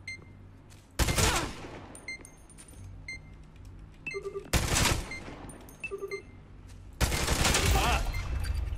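Repeated bursts of heavy automatic gunfire in the shooter game Spectre Divide, three long loud volleys separated by quieter stretches with small clicks and interface beeps.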